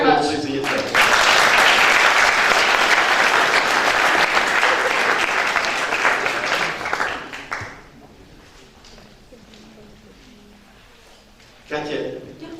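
Loud, close applause from an audience at an international event in Prague bursts in and holds strongly for about seven seconds, then drops away to quiet before a short swell of noise returns at the end.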